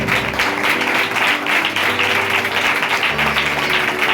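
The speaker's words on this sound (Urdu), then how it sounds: "زوردار تالیاں اس کے جلال کی" A church congregation applauds loudly during a sermon, with a thick, steady wash of clapping that runs evenly for a few seconds over a low background hum.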